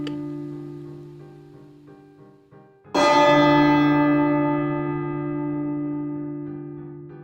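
A single large bell strikes once with a sharp attack, then rings out in a long, slowly fading resonant hum, preceded by a softer lingering tone.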